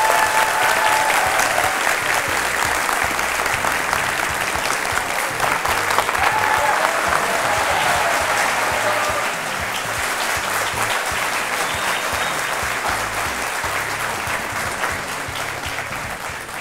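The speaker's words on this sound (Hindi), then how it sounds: "और ये तालियां बजते रहें" Studio audience applause on a Hindi courtroom-style talk show as a former Madhya Pradesh chief minister is introduced: a long, loud, steady roar of many hands clapping, easing slightly in volume over the second half.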